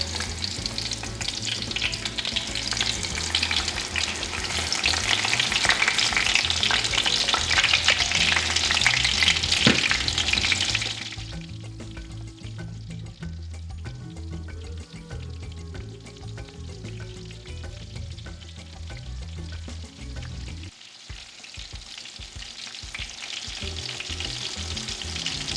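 Pork schnitzel fries in a pan just after being flipped, a loud steady sizzle for the first ten seconds that settles to quieter crackling frying with occasional utensil stirring and clinks, no talking.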